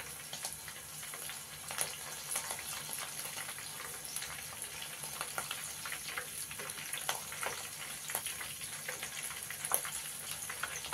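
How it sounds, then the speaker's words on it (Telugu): Soya chunks (meal maker) frying in hot oil for Soya 65, a steady close crackling sizzle with dense popping bubbles throughout, no talk. "చూసారా ఎలా కాలిపోతుందో బాగా."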